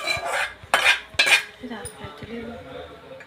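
Spoon clinking against a metal pot while ghee-fried dry fruits are stirred into a payasam mixture, a few quick scraping clinks in short bursts with quieter kitchen sounds between them.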